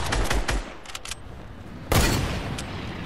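Video-game gunfire during a trick-shot attempt: a burst of rapid shots opens, a few scattered reports follow, then a single loud sharp shot rings out near the middle and decays.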